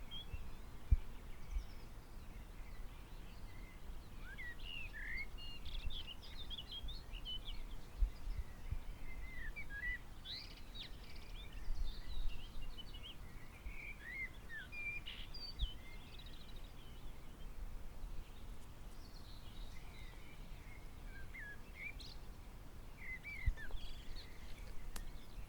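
A flock of birds chirps and calls steadily over a low outdoor rumble, with scattered bursts of song throughout and no talking.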